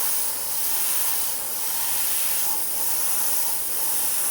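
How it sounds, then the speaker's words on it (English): Airbrush misting opaque black paint in light passes, a close, continuous airy hiss with gentle swells and no voices over it. "I'm using the opaque black, but I'm spraying it lightly so we can see through it."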